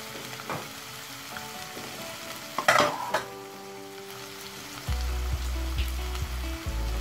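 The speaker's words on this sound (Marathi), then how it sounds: "चांगला हलवून आपण घेणार आहोत" Turmeric and spices fry in a pan for vada pav, a constant sizzle broken by spoon scrapes and stirring clatter, with a louder clatter midway and low rhythmic knocks near the end.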